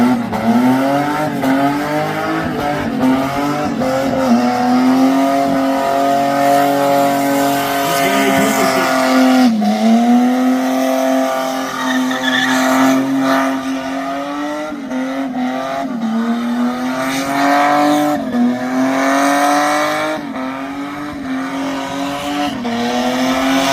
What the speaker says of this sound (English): I'll tell you what, mate, that's cheered me up, that skid.